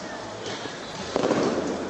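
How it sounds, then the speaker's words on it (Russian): Fireworks display at Disneyland Paris heard from inside a hall, a dull continuous rumble of distant bursts that swells into a louder crackling volley toward the end. "Взрывы в зале, не пугайтесь. В это время здесь, в Диснейленде, традиционный салют."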